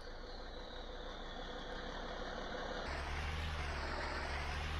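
A farm vehicle's engine idles in a farming roleplay video game, a steady low rumble that shifts to a deeper, louder drone partway through, with no talking.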